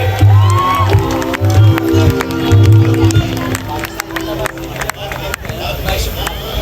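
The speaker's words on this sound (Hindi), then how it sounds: "तो मैं चाहूँगा पाकिस्तान के लिए तालियां बजाइए" A crowd at a Pakistan Day parade event in Edison, New Jersey, claps and cheers for Pakistan, loud and close, with voices and crowd babble mixed in.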